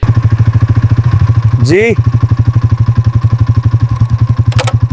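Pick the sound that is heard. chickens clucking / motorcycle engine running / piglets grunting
motorcycle engine running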